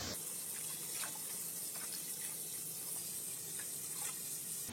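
Cold water runs into a soup pot of traditional sorrel soup, a steady faint splashing stream from a tap that continues throughout without a break.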